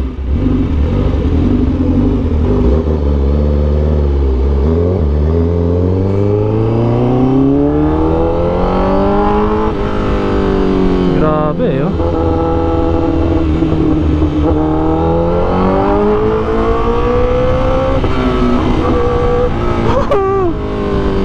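Superbike fitted with an SC Project exhaust revving hard in second gear, a loud, close engine climbing and falling in pitch through repeated sweeps with a steady roar throughout.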